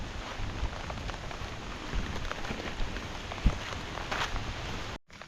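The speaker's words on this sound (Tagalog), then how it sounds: "Lakas po ng ulan." Heavy rain pours down steadily beside a garden with lanzones trees, a dense even hiss of drops on surfaces with a few louder splats and knocks before cutting off abruptly near the end.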